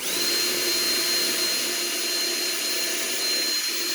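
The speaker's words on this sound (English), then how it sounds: "brace the wood and drill the hole" A Ryobi drill driver boring a hole in braced wood, a steady high-pitched motor whine held at constant speed for the whole stretch, loud and close with no talking.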